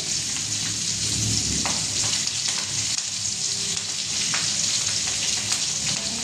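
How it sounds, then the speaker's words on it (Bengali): Steady loud sizzling of green chillies frying in hot oil, a dense crackling hiss with occasional sharper pops, no voices. "কিছু কাঁচা লঙ্কা নিয়ে নিয়েছি, দিয়ে দেবো তেলের মধ্যে"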